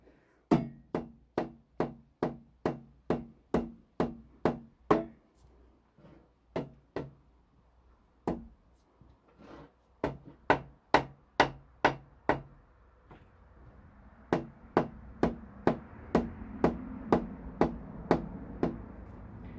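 Steady, evenly spaced knocks of a rubber mallet tapping an LS engine crankshaft to seat the thrust bearing, loud and close, in repeated runs separated by brief pauses, with no talking.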